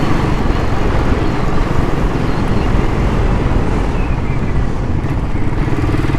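A Royal Enfield motorcycle rides along the road, its engine drone buried under a loud, steady rush of wind and road noise with no break.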